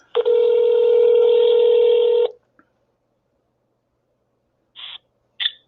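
A telephone on speakerphone gives a steady, loud dial tone for about two seconds, then after a pause two short ringing bursts sound close and clear.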